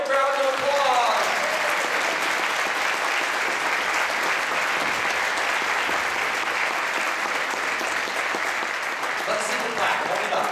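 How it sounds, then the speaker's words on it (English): A crowd applauds a third-place winner at an award presentation, the clapping loud and steady for about ten seconds after a voice briefly speaks at the start. "Let's all give her a great big round of applause."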